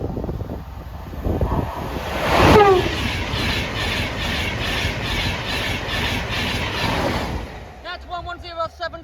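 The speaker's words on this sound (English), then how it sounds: "Here's the second train." A train passes over the Cromwell Lane level crossing, a steady rushing roar that swells and holds for several seconds with a rhythmic clatter of wheels, buffeted by wind noise. Crossing alarm tones sound near the end.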